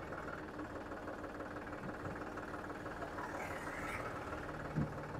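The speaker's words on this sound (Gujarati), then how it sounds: "ટ્રેક્ટર ચાલુ થઈ ગયું છે" A Digitrac PP 43i E1 tractor engine idles steadily with a low, continuous rumble, with a faint brief knock near the end.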